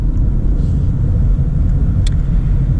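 2019 Subaru Outback with 2.5 liter engine and CVT accelerating, a steady close low rumble of engine and road noise throughout, with no talk.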